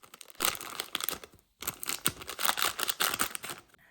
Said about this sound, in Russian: Для аромата и вкуса добавляю 1 пакетик ванилина.